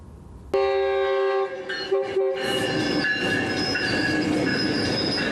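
A train moves along a railway, opening with a sharp, loud horn blast, then the close rumble of wagons and high metallic wheel squeal running steadily to the end, with no voices.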